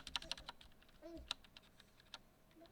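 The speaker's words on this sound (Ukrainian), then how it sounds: "Ось так звучить ця клавіатура з пластирями на стабах" Typing on a 1stPlayer MK8 Lite mechanical keyboard with Gateron switches and patched stabilizers: a run of sharp clicky keystrokes at an uneven pace, close and fairly quiet, with one short tonal squeak partway through.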